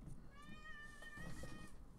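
A house cat meows once, a drawn-out, wavering cry, faint and nearby over a steady background hum, with no talk.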